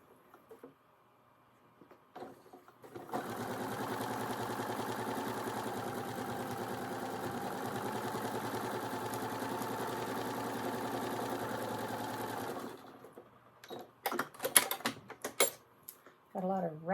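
A sewing machine stitches a quilt block in one continuous burst of about nine seconds, rattling steadily and fairly loudly, followed by a few sharp handling clicks after it stops.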